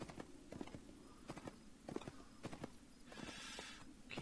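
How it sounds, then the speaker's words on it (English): A horse in the post-apocalyptic game Fallen Earth clip-clops in steady hoof beats at close range, then gives a short whinny near the end, with no talk over it. "So someone has left their horse here."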